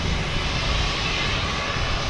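A jet airliner takes off at Boston Logan Airport, its engines producing a loud, steady, broadband roar that fills the short stretch without pause.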